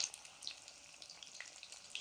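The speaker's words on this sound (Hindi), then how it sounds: "फ्रेंड्स इस तरह से डीप फ्राई करके पहले चिकन को निकाल लेते हैं" Chicken deep frying in hot oil in a home kitchen before being added to a kebab masala gravy, a steady soft crackling hiss with small scattered pops, fairly quiet and continuous with no voices.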